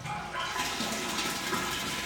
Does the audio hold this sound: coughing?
no